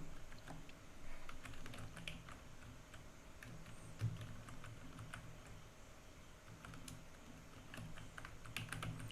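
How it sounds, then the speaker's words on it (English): Steady typing on a computer keyboard at a terminal, a command being entered: a continuous close patter of key clicks with a slightly louder keystroke near the middle, no talk over it. "I will go to the terminal and I will type Gradle sign-in report"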